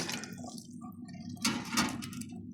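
Water is poured for Filipino siopao sauce in a home kitchen, a soft trickling splash with a couple of louder bursts of liquid.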